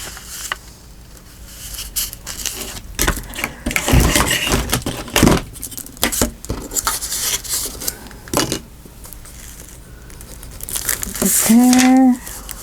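Coffee-dyed paper crinkles, rubs and rustles in close, intermittent bursts as it is handled and crumpled during card and tag crafting, with a person talking over much of it and a brief high squeak near the end.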